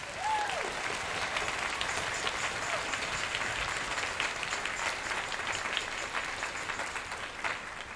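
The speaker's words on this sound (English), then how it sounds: "Can we do one more round of applause for our amazing middle school students?" An audience at a middle school honor band concert applauds in a long, even round of clapping that holds steady throughout.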